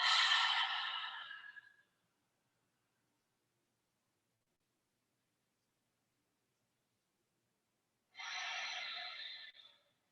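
Two long, deep breaths during a yoga exercise, the first at the start and the second near the end, separated by a long silence, each a close, airy exhale with no talking.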